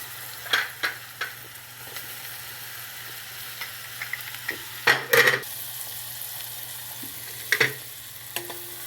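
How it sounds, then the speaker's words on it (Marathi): Onions sizzle steadily in butter in a pan for pav bhaji, a continuous frying hiss with a few sharper clinks and scrapes of stirring, close up with no talking. "कांदे घालूया"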